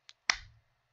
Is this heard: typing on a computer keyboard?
no